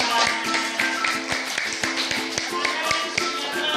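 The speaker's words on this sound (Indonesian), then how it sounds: "Ya, tepuk tangan untuk kelompok 4." A classroom of students claps for group 4, a sparse, uneven patter of hand claps with a steady tone running underneath, fairly close and moderately loud.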